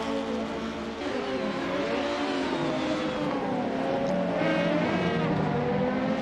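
Touring race cars, including a small Nissan Sentra, race round the Aldo Scribante circuit, their engines revving and howling loudly and continuously as they climb through the curves, with rising and falling pitch.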